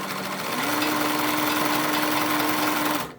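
A Highlead zig zag sewing machine runs a stitch, a rapid steady mechanical whir with a clear tone that starts, holds for a few seconds, then stops.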